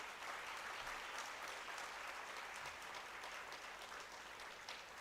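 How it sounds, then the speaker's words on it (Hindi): Steady, dense applause from a hall audience honoring guest swamis at a Swami Vivekananda Jayanti celebration at a yoga center in Ulhasnagar; many hands clap continuously and evenly for about five seconds without pause. "एक बार तो उनके लिए जोर से तालियां बजाइए"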